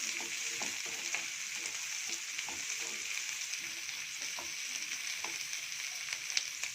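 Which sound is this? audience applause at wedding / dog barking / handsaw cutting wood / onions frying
onions frying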